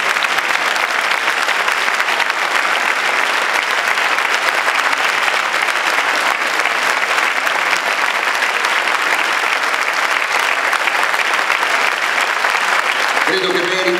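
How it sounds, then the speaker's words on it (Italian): A crowd at a charity evening in Frontino applauds loudly and continuously, a thick, even roar of clapping from start to finish with no let-up. "Un grande applauso, grazie."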